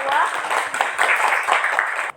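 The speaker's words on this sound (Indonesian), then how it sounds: "Silakan tepuk tangan dulu kita kelompok" A classroom audience of lecturer-certification participants at Universitas Bengkulu claps together in a steady, moderately loud burst that fills the whole moment and cuts off abruptly at the end.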